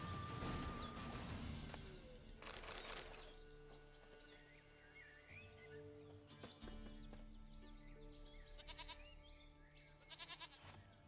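A goat bleats in a wavering, nasal cry in The Witcher 3 next-gen, against steady game-world ambience, with rustling movement and faint hoof-like clopping in the background.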